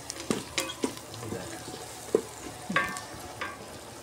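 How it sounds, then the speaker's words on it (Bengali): Food cooks in a rice cooker with soft bubbling, stirring and sizzling, several short scattered clicks and knocks over a low steady hiss, fairly quiet and close. "দেখতেই পাচ্ছেন যে আজকে রাইস কুকারে রান্না হচ্ছে।"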